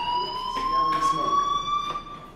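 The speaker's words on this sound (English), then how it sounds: "do you hear that fire alarm?" A fire alarm in the video game Life is Strange gives off a steady, piercing electronic tone with harmonics that sounds continuously, with brief bursts of talk over it.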